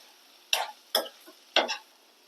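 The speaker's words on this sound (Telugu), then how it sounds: "ఈ ఇడ్లీ ముక్కల్ని మసాలాలో కలిసే వరకు కలుపుకోవాలి" Fried idli pieces stirred into masala in a pan, three distinct scraping strokes of a spoon against the vessel, close and fairly quiet, with brief gaps between them.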